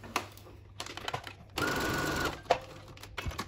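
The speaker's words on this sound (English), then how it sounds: "sew the other end down here." A sewing machine stitches down the end of the elastic on a scrub cap in one steady burst of about a second, loud and close, with faint handling noises before and after.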